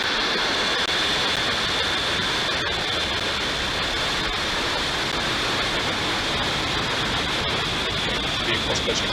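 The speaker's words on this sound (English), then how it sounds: "9, 8, 7, 6, 5, 4, 3, 2, 1. Just full power. And liftoff, OneWeb 3." A SpaceX rocket lifts off on a OneWeb mission, its engines producing a loud, continuous broadband roar that stays constant and heavy from start to finish with no other sounds standing out.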